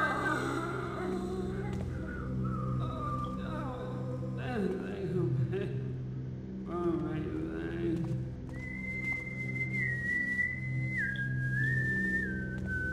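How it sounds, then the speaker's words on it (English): In the Thief: The Dark Project game, a character whistles a steady tune that carries on in long held notes, heard over a busy backdrop of game sounds and voices. "That incessant whistling."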